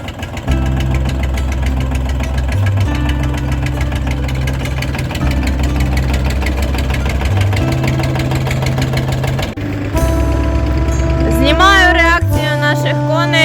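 A heavy KATA E244 tractor engine chugs and idles loudly, its pitch shifting as it revs up and pulls away, with voices talking over it.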